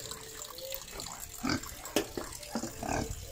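A pig on a farm grunts and snuffles in short, close bursts over a wet, splashing background, with a few louder snorts spaced across the clip.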